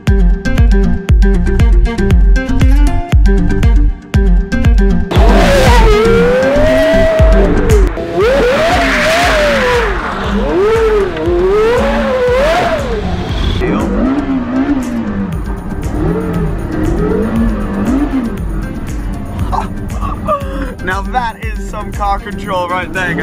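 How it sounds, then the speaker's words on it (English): Porsche Carrera GT drifting on a mountain road, its engine revving loud and close in rising and falling sweeps with tire squeal, with voices breaking in near the middle. "That is the best drift I have ever been involved in my whole life. Carrera GT on a mountain road."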